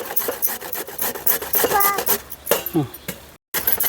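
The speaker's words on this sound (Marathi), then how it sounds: "असे खिसून घ्यायचं" Fresh turmeric root scraped back and forth against a hand grater for pickle, a close, rhythmic rasping with short strokes and occasional clinks, a voice talking over part of it.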